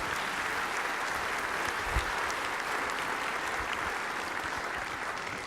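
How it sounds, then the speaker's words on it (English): An audience at the Celebration of Possibilities 2012 event applauds a smooth jazz house band, a steady, full round of clapping that holds evenly for several seconds, with a single louder thump near the middle. "Give them a round of applause."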